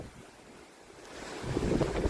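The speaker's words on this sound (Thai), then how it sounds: "ลมแรงมากครับ" Strong wind buffets the microphone at a remote fishing spot in Kaeng Krachan, building from a low rumble into heavy, gusty roaring in the second half, with no talking.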